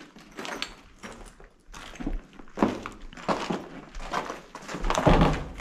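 Heavy doors in an abandoned Soviet-era hospital in Legnica thud and bang with hollow knocks and scraping among footsteps, several irregular impacts building louder toward the end, with brief speech between them.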